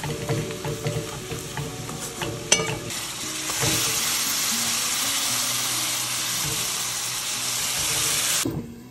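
Onion sautéing in a pan, with a scrape and clatter of stirring at first and then a steady, close sizzle that stops abruptly at the end.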